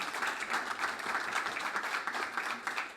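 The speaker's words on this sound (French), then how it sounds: "on peut l'applaudir" An audience at a culinary event applauds, a loud, continuous wash of many hands clapping that stays even for the full few seconds with no speech over it.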